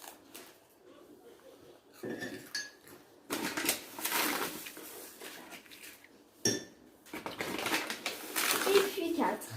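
A spoon clinks and scrapes against a mug as four teaspoons of caster sugar go in for a mug cake, in short bursts of ceramic tapping and rattling separated by pauses, with a voice speaking between the scoops.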